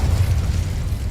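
An Incendio fire spell cast in Hogwarts Legacy, a low rumbling whoosh of flame that stays loud and steady for about a second, with no talking.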